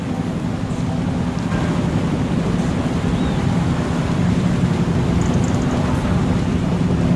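A barge in Farming Simulator 25 moves through water, giving a continuous wash of churning water and low engine rumble, steady and fairly loud throughout with no talk.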